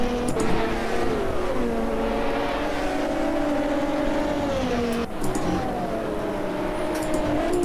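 Ford GTE race car in Automobilista 2 drones at high revs through a steady in-car pull, dips briefly on a shift and climbs again, loud and continuous with no voices.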